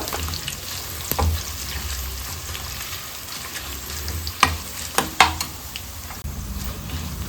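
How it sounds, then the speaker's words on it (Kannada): Dried red chillies fry in a pan for tomato pickle, giving a steady soft sizzle with a few sharp clinks of stirring, close and fairly quiet, with no talk. "ಕಟ್ ಮಾಡಿ ಇಟ್ಕೊಂಡಿದ್ದ ಒಣಮೆಣಸಿನಕಾಯಿ ಇತ್ತಲ್ಲ ಅದನ್ನು ಹಾಕ್ಕೊಂಡು ಫ್ರೈ ಮಾಡ್ಕೊಳ್ಳೋಣ"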